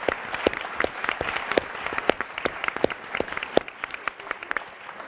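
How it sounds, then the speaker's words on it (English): An audience applauds a climate change conference panel, with dense steady clapping and a few sharper individual claps standing out, fairly even in level throughout. "Just everybody give them a big round of applause,"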